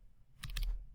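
A few quick keystrokes on a computer keyboard, a short cluster of soft clicks heard close and alone.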